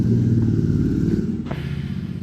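Royal Enfield Interceptor 650 motorcycle being ridden away, a loud close engine rumble with a brief clattering rev as it pulls off.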